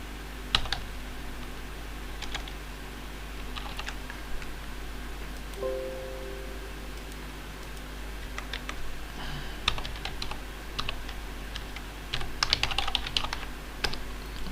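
Steady typing on a computer keyboard while entering data into Access tables, irregular close clicks and clusters of keystrokes over a low hum, no voices.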